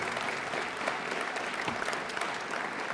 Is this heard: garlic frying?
no